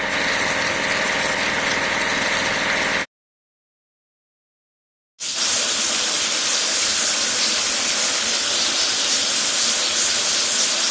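Steady, loud hissing spray from a video game vehicle wash, cleaning machines such as a road roller, runs continuously, cuts to silence for about two seconds, then resumes.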